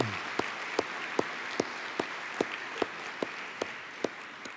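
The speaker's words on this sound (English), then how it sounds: "I'd like to ask for a round of applause for the students." An audience at a university event's opening remarks applauds steadily, a continuous wash of clapping with a few sharper claps standing out at regular intervals.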